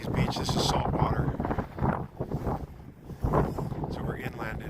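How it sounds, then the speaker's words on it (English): Gusty wind blows across a saltwater beach inland in Washington state, buffeting the microphone in uneven surges that rise and drop over a few seconds. "So this is, as you can see, very windy"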